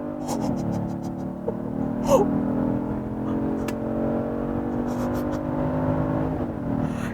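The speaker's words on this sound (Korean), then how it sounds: "자, 그럼 속도를 조금 낮춘 후에 저속에서 고속으로 풀악셀" A 2026 Genesis GV80 with an 8-speed automatic in sport mode accelerates at full throttle from low speed, a steady engine drone rising gradually in pitch before a shift near the end, heard from inside the cabin with brief voice sounds.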